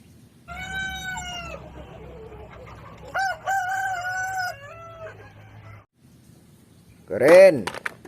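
A toy chicken plays a recorded rooster crow: a long tonal cock-a-doodle-doo in two phrases, fairly close and clear over a faint background hum, followed by a short rising squawk at the end.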